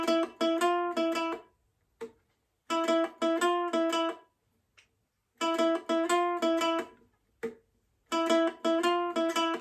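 A ukulele strums short bursts of chords from a wrestling theme, four clear phrases of rapid repeated strums separated by brief silences, close and clean with no talking.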